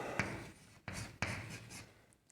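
Chalk or marker scratches across a classroom board in a few quick strokes with short pauses between them, faint and close.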